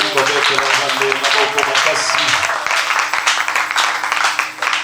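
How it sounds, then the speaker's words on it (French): A church congregation applauds in praise, dense clapping filling the room over a low hum of voices or music, steady and loud throughout. "Nous pouvons applaudir pour notre Seigneur."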